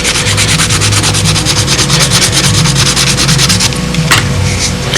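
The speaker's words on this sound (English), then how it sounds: "The old Bud McKnight sanding stick goes into action" A sanding stick works a balsa Spitfire model fuselage part, giving steady, rapid back-and-forth rasping strokes close up and loud, with a rhythmic scratchy texture throughout.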